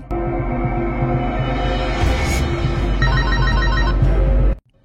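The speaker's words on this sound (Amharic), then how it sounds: "ስልክ የጠራ ነው" A telephone rings indoors in a short repeating ringtone pattern, loud and close, over a low rumbling background before it cuts off abruptly.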